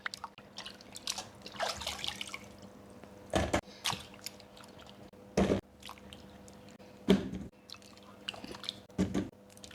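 Cassava being washed in water, heard as close wet sloshing and squishing with several sharp splashy bursts and drips at irregular intervals, no voices.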